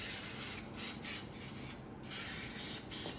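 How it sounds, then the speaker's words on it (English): Short bursts of a fine oil spray mist over freshly made hot cross buns, several quick hissing puffs spaced apart, close and fairly quiet. "I'm going to give that a light spray of oil"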